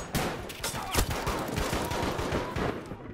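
Rapid gunfire from a Battlefield V match, bursts of automatic shots and sharp reports crackling densely throughout, loud and close, with no talk over it.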